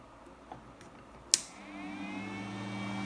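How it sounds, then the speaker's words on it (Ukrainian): 18-volt electric fan running from a 2000 W inverter is switched on with a sharp click, then its faint motor hum and whine rise and hold steady, quiet throughout. "Вмикаємо на вентилятор, на індуктивне навантаження. Вентилятор 18 вольт."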